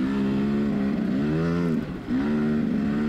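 A dirt bike ploughing through deep sand at Gopher Dunes in Ontario, its engine droning loud and close with a rising and falling pitch and a brief dip before picking up again.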